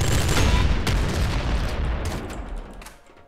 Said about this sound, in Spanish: La Plasma Gun. Bueno, Plasma Gun.